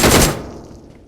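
A single heavy shotgun blast in PUBG Mobile, a sharp loud crack that decays quickly within a second.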